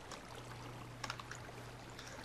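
Flowing water in the Minecraft video game, a soft steady trickling stream rendered quietly with a few faint splashy ticks, no voices.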